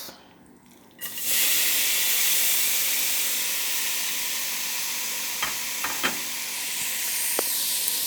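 Minced beef dropped into already-heated oil gives a loud, steady sizzle that bursts in after a quiet second and holds broadband for the rest of the clip, with a few brief utensil clicks near the end.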